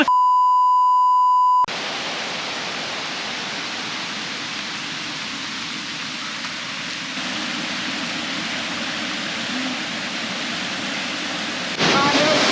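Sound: Pi Tu Gro heart-shaped waterfall, Umphang

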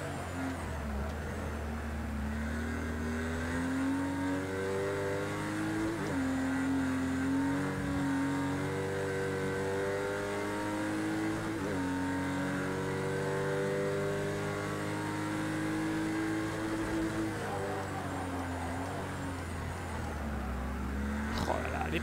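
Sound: race car engine driving in Project CARS 2 video game

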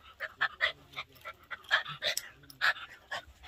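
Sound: puppy panting

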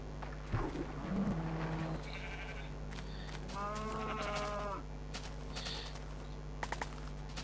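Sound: sheep bleating in the video game Minecraft

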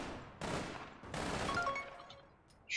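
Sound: gun firing three-round bursts in a video game

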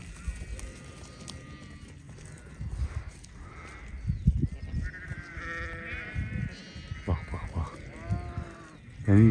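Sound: flock of sheep bleating

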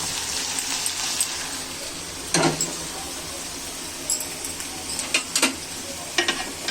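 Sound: hot oil poured into the pan, sizzling

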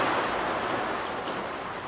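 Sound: rain falling outside off-grid cabin

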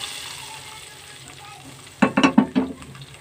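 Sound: sizzling tempering (baghar) poured into dal gosht

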